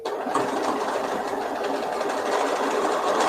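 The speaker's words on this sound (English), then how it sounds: "I'll try and sew in there to make it a better curve." A sewing machine runs steadily, stitching a second pass along the curved seam of a fabric memory bear, with a close, continuous whirring motor and rapid needle rhythm and no voices.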